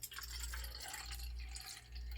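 Water is poured into a cup in a workshop to make raspberry lemonade, a brief liquid trickle over a steady low hum.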